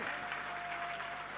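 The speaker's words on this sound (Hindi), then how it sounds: "अभी तालियों की आवाज कम है" Audience at a religious reception for a Jain monk in Nagpur claps steadily and continuously, a dense, even wash of applause at moderate distance with no voices.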